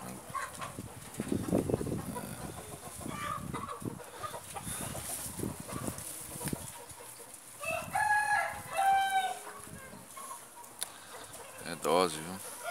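A giant rooster with an injured leg crows several times at close range, its drawn-out calls rising over farmyard noise and scattered clucking, with a person talking nearby.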